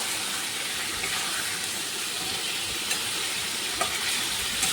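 Potatoes and pointed gourd sautéing in a pan for an aloo potol paneer curry, giving a steady close sizzling hiss with faint stirring scrapes throughout and no talk.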